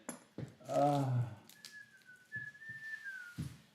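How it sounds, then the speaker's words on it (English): A person whistles a short, thin tune, sliding slightly in pitch, after a brief spoken murmur; soft and close with light handling noises. "I don't know why I just whistled"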